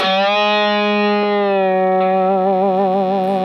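A distorted electric guitar holds a sustained note bent up to the 9th interval, then wavering with vibrato, thick with effects and ringing on its own.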